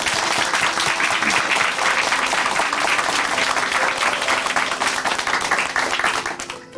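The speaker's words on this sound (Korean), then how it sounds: "다시 한번 김송희 자매님께 박수 보내드립니다" A church congregation at Chuncheon Hanmaum Church gives loud, sustained applause for a testimony speaker, continuous dense clapping that fades out at the very end.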